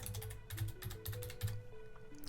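A phone number is keyed in during a payment, a close, quick run of light keyboard taps in an uneven rhythm over faint background tones.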